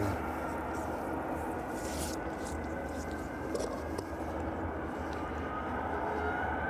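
An Aegean Airlines airliner departs East Midlands Airport for Athens, a steady distant jet engine rumble held at even loudness throughout, with a voice talking over it.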